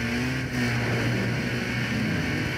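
A BMW engine revs in the Need for Speed Most Wanted (2005) racing game, a loud continuous droning growl that holds steady throughout without a break.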